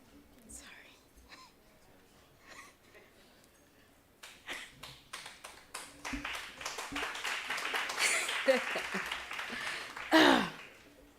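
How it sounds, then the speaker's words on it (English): Audience applause at a women's leadership conference, starting with scattered claps and swelling into a dense, loud round, with whispering early on. "Thank you for the warm round of applause."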